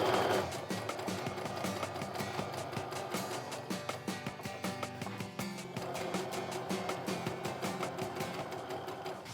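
A sewing machine chain-pieces quilt blocks for a wonky star baby quilt, its needle stitching in fast, steady bursts with a brief pause midway before resuming, close and alone.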